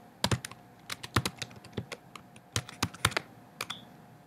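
Keys clack on a Mac computer keyboard in short bursts, a dozen or so crisp close taps with brief pauses between, no voices.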